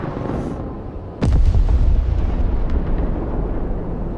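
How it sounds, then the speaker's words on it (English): Friendly artillery shell explodes in a video game: a single loud, deep boom lands suddenly after a quiet lull, then rumbles and decays slowly. "Oh, that was the friendly artillery."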